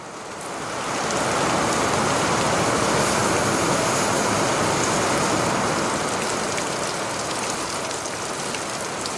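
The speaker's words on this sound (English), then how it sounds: "that's actually a mixture of rain and ice" A mixture of rain and ice falls outdoors in a dense, steady hiss that swells in over the first second and stays loud and even, with no voices.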